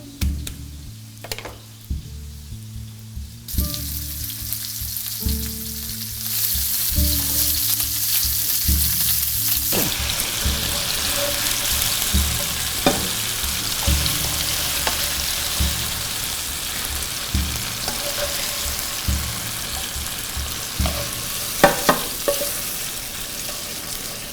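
Lamb and chorizo fry in a pan with a steady, close sizzle, punctuated by occasional clinks and scrapes of stirring. A brief tonal melody plays over the first few seconds.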